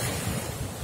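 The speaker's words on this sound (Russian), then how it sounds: "Вот капелька, чтобы вы увидели, какое море, что сегодня." Rough sea at Divnomorskoye, with waves and surf rolling onto the shore in a loud, continuous wash mixed with wind noise on the microphone.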